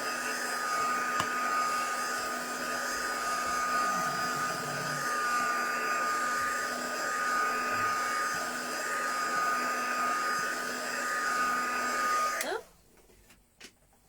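A hair dryer blows a steady, close whirring hum over a fresh layer of paint on décor work, running continuously before switching off near the end.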